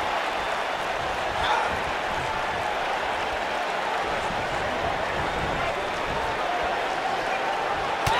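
Arena crowd noise from a WWE 2K19 wrestling match, a steady broadband roar of cheering and applause holding at an even level throughout, with commentary voices underneath.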